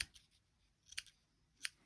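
A few quiet, crisp snips of scissors cutting paper for a junk journal, spaced apart, close by with little else around.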